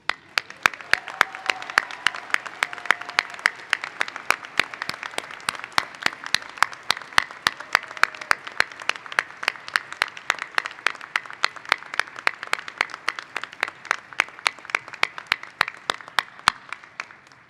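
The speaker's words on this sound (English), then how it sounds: "Graduates, please join me in sharing your most raucous applause to honor these folks" Applause from graduates at the McHenry County College Class of 2021 winter commencement, heard as a long run of sharp, evenly spaced claps with a faint crowd wash behind them, continuing for over fifteen seconds.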